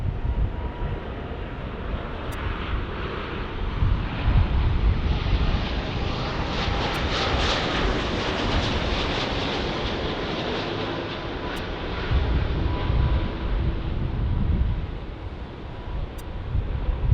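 A large aircraft roars steadily at Los Angeles International Airport, a broad, loud rumbling wash of jet noise that swells and fades slightly over the span, with some wind buffeting the microphone and no talk.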